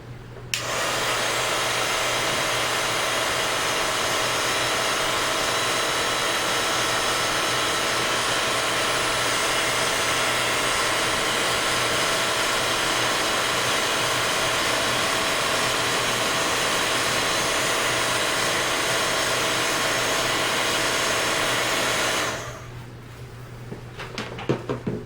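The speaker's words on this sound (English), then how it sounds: "you're going to take your heat tool, and I'm going to turn on and watch the magic" A heat tool blows steadily while melting embossing powder on a papercraft card, a loud continuous fan-and-heater whoosh running unbroken for over twenty seconds before cutting off into near silence.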